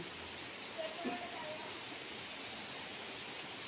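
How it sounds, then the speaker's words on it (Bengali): Steady, dense hiss of heavy rain pouring down continuously, with a brief faint tone rising out of it once. "দেখো বৃষ্টি কত জোর শুরু হয়ে গেছে"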